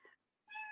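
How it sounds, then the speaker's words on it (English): A house cat meows twice, a brief soft first call then a longer, louder, rising meow after a short pause, close by in a quiet room. "Sorry, that's my cat."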